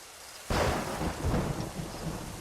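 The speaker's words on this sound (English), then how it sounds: "This storm's getting worse." A thunderstorm in Assassin's Creed Rogue breaks in with a sudden loud thunder crack, then a heavy rolling rumble over steady pouring rain that keeps hissing throughout.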